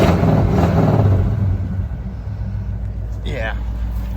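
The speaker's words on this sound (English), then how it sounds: "Oh my God, it's a big truck." A rough square-body Chevy truck engine rumbles and revs loudly up close, then settles to a lower idle as a voice speaks briefly over it.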